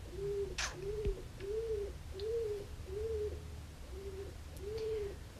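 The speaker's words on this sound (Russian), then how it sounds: "Да, слышно, хорошо слышно их, голубей." Pigeons coo in a regular series of about seven soft, rounded calls evenly spaced, close by, over a low background hum.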